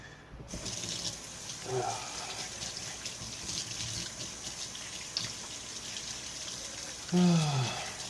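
Tap water runs steadily into a kitchen sink while hands are rinsed after mashing corned beef dip, a close continuous splash with a few brief sharper splashes and clatters.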